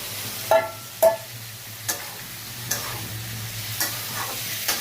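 Spice paste of ginger, cumin, tomato and green chilli being stir-fried with papaya, potato, turmeric and salt in a pan, giving a steady low sizzle broken by several sharp scraping strokes of a spatula, alone without talk.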